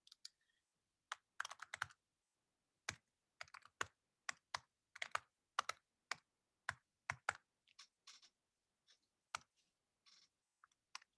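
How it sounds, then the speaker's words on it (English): Someone types an email address on a computer keyboard, a quiet, close run of separate key clicks with short pauses in between, no talking. "I've just typed in my email address to the chat box"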